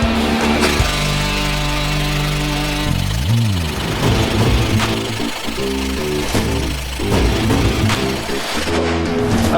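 An M7 NC-4233Q air impact wrench hammers steadily at a nut for about nine seconds, a loud, continuous rattling impact with a brief pitch dip partway through as it works the nut loose.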